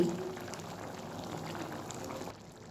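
Chana dal with soybean simmers in a pot on medium heat, giving a low, steady bubbling, burbling wash that stays close and fairly quiet before easing off near the end.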